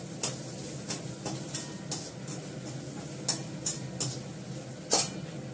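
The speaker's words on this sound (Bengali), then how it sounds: "রসুন দিয়ে দিলাম" Chopped garlic sizzles softly in a hot pan while a utensil scrapes and clinks against the metal in irregular strokes, a steady frying hiss beneath the sharper knocks.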